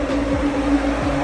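Mishimoto dual electric radiator fans running in a 1988 Mustang with a 331 stroker engine, a steady loud whirring hum with an even tonal drone and no breaks.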